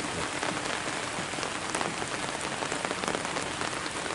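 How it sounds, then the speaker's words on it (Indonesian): Steady rain falls on a plantation, a dense, even hiss of drops hitting leaves and ground, continuous and fairly close, with no voices. "Jadi cuaca sekarang itu sahabat lagi turun hujan sahabat ya."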